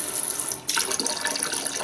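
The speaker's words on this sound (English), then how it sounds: "You can see the water comes out a lot faster when I do that." Water sprays hard from a garden hose whose end is partly covered by a thumb, a rushing hiss that jumps louder partway through and then stays strong.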